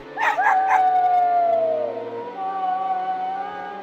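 A dog howls in a long, rising-then-falling wail with a few short yips at the start, over a steady low background drone, used as an eerie sound effect in an illustrated horror story about a haunted night watch.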